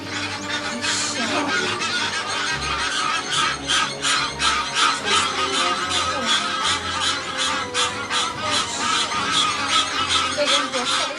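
Egyptian geese honk loudly and persistently, a dense run of harsh, repeated calls that continues without a break over steady background noise.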